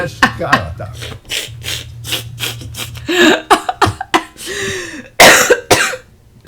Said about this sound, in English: I start coughing out of nowhere